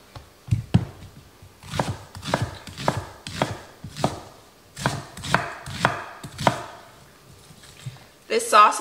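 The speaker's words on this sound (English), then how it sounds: "so we do not need to cut the onion too small" An onion being roughly chopped on a cutting board, about a dozen distinct, close knife thuds in an uneven rhythm, ending with a brief rustle.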